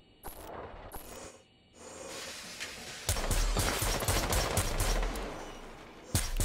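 Rainbow Six Siege gunfire on the Kafe map: a few isolated shots at first, then a sustained, loud burst of rapid automatic fire with sharp repeated cracks, ending in one final close shot.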